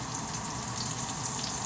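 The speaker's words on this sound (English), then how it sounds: "Hear that sizzle? That is what we're after." Onions frying in oil in a pan for chorizo pasta give a steady, bright hiss and crackle that holds evenly throughout at moderate volume.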